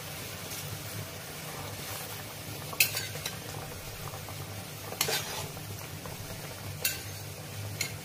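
Fish pieces are added one by one to a boiling mustard-paste curry in a pot, with a low steady simmer broken by a few sharp clinks of utensils against the pan.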